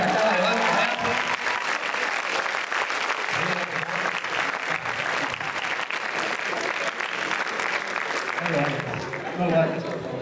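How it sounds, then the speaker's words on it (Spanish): Strong applause from a conference audience fills the room, continuous clapping with occasional voices and cheers mixed in underneath. "queremos un aplauso muy fuerte porque acaba de vacunarse."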